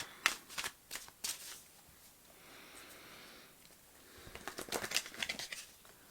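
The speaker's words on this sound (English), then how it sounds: "I'm gonna shuffle it outside of camera probably" A tarot deck is shuffled in bursts of crisp riffling, a cluster near the start and another toward the end, with a softer stretch between; no one speaks.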